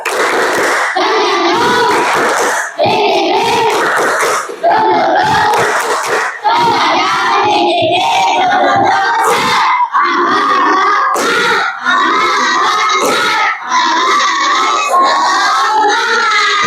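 A classroom of young students chants and claps together in loud, rhythmic bursts, call-and-response style, with no pauses between rounds.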